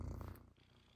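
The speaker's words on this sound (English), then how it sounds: "Can you hear him purring?" A pet cat purring right beside the listener at a desk, a soft low rumbling throb that is strongest at first and then fades quieter.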